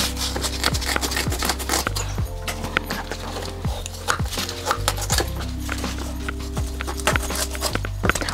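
A knife chops through a whole shark on a cutting surface, giving repeated sharp, close thuds at an uneven pace, each knocking through a steady low background hum.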